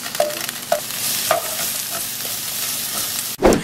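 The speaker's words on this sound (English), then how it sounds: "Then we're going to add our onion to that same pan and allow it to saute down." Onion sautéing in the same frying pan that just held ground beef, a steady close sizzle with periodic stirring scrapes, ending in a brief louder clatter.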